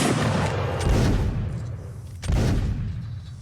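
Musket volleys in a Mount & Blade multiplayer battle, two loud crackling bursts of massed gunfire with rumbling booms echoing between them.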